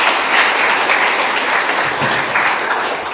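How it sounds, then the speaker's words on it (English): Loud, dense audience applause at a school special and academic awards ceremony, many hands clapping steadily and close, sustained without a break. "let's give them a round of applause"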